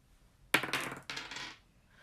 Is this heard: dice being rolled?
yes